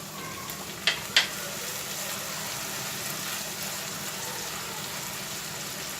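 Onion frying in a pan for a mushroom chilli dish as soy sauce goes in, a steady even sizzle with two sharp pops early on, alone with no talk.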